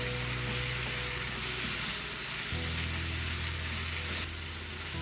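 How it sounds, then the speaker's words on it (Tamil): Tomatoes drop into a pan of sautéed onions, and a loud, steady sizzle of frying follows, with a brief shift partway through as the pan is stirred. "இப்போ அடுத்ததா நான் இதுக்குள்ள எடுத்து வச்சிருக்கிற தக்காளி பழத்தை போட போறேன்."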